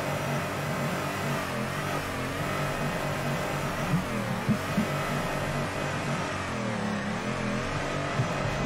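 A drift car engine from the Torque Drift racing game revs steadily with small surges as gears shift up and down. The tone is loud and continuous, with no talk over it.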